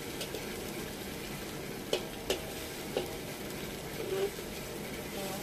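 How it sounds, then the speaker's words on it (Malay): Belacan shrimp paste frying in a little reused oil that had earlier fried onions, a steady soft sizzle with a few sharp clicks and scrapes from stirring. "So ini belacan sudah saya goreng"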